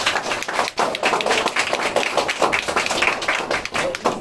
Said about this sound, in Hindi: जोरदार तालियों के साथ तुमको